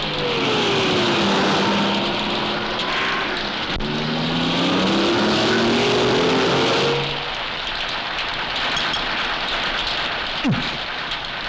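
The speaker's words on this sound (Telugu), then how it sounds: "అలా చూడేదో కారు వస్తుంది" Car approaching through heavy rain, its engine rising and shifting in pitch as it nears, then fading into the constant hiss of rain on the ground.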